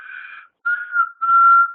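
A whistle marks the end of a turn in a group activity: three short, clear whistled notes, the first steady, the second and third longer and louder, with brief gaps between them and no talking.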